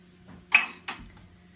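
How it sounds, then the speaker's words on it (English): Two quick scrapes and clinks of a utensil against a bowl while stirring a creamed corn and shredded cheese mixture, close and brief, over quiet room hum. "And just stir that around."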